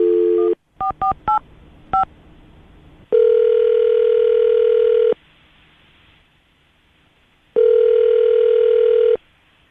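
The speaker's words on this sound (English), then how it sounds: "we're going to call her right now, see if we can get her on the phone" Quick beeps of a number being dialed, then a loud steady dial tone sounds twice in long bursts separated by a brief quiet gap.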